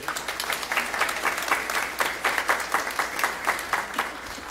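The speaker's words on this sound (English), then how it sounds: "Let's give another round of applause." A church congregation applauds at a Memorial Day Sunday worship service after piano music, with steady, fairly faint clapping in rhythmic bursts that lasts throughout without speech.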